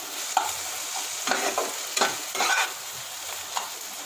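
Spice paste with Kashmiri chilli powder, sugar and other ground spices being sautéed in a pan for a shahi kakrol curry, with a soft continuous sizzle and repeated scraping stirs in uneven strokes, close and clear, no speech.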